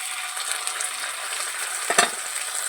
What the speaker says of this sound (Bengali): দিয়ে আমি ভালো করে কষিয়ে নেব।